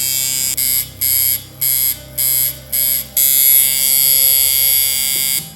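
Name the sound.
coil tattoo machine running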